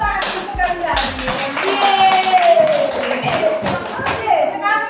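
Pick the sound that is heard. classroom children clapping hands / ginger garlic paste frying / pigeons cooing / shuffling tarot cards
classroom children clapping hands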